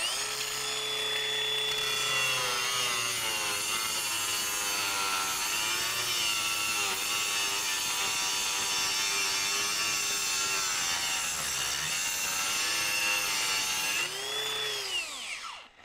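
Hilti Nuron AG 6D-22 6-inch cordless angle grinder grinding material under heavy pressure, a loud steady whine running nearly unbroken for about fourteen seconds, its pitch sagging slightly as it bogs, then spinning down at the end.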